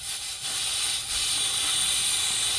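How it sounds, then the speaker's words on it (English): Air hisses steadily from a rubbed-through, leaking turbo boost line on a turbocharged Cadillac Escalade, a loud broadband whoosh that holds constant throughout at close range. "So the line that I had going to the top, I just checked it and it's actually leaking."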